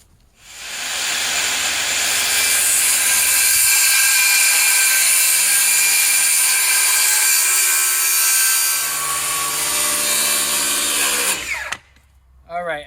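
Power saw cutting scribed wooden fence boards outdoors during a garden fence build, one continuous loud, close whining run of about ten seconds that winds down and stops, followed by a brief clatter.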